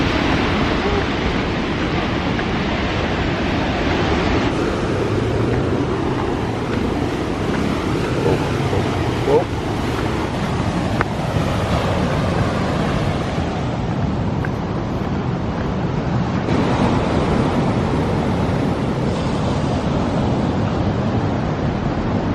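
Continuous surf rolling onto a beach beneath tall cliffs at Varkala, India, a steady broadband wash with gusty wind noise over the microphone, fairly loud and unbroken, no voices.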